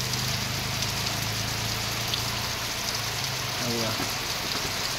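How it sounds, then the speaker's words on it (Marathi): Heavy monsoon rain pours steadily in the Konkan town of Khed, a dense, even hiss that holds without a break while someone speaks briefly over it. "हा बघा पाऊस बघा, रात्रीपासून जरा जास्त आहे पाऊस."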